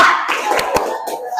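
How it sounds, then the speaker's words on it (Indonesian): A class of students claps hands together in a quick burst of rhythmic claps, fairly close, with some voices mixed in. "Kita tepuk semangat ya."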